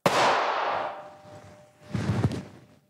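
A Rodenator R1 propane-fired rodent control device test-fired with the valve a little over an eighth open gives a loud, sharp boom that decays over about a second, followed by a second muffled thump-like burst, outdoors with no talking.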